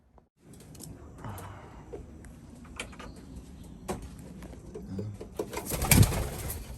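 Young racing pigeons coo in a loft on a 136 km race day, soft low murmuring coos repeating throughout at close range, with occasional wing flaps and a brief clatter near the end.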